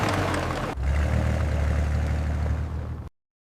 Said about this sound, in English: that fuel pump down there has been clacking away. It does not sound good.